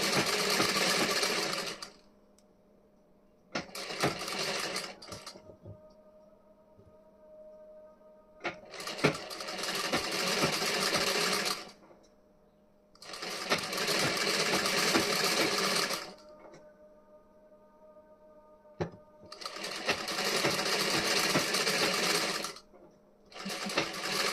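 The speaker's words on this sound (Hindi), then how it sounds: "आधे इंच कपड़ा लेके इस पे स्टिचिंग करनी है।" A sewing machine stitches blouse front fabric about half an inch from the edge, running in loud, steady bursts of a few seconds each with short pauses between them and no talking.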